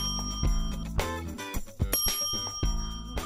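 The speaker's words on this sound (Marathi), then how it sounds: "सध्या तुमच्यासाठी ही घंटी आणली मी" A bicycle bell rings in quick repeated trills, fairly close and clear, in a quiet indoor scene without talk.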